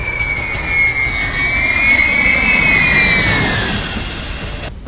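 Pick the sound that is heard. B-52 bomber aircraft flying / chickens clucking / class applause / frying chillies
B-52 bomber aircraft flying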